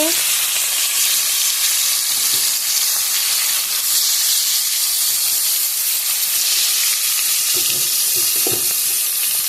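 Marinated fish pieces fry in hot oil, a loud, continuous sizzling hiss that fills the whole stretch, with a few soft low knocks from the pan near the end and no talking.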